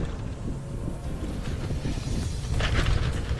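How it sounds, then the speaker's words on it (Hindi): Strong wind buffets the microphone in a steady broadband roar at a kite-flying outing, growing louder and gustier toward the end, with no voices. "लेकिन तेज़ हवा चल रही है"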